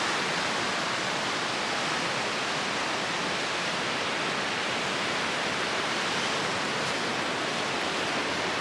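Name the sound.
surf on the Lake Michigan shore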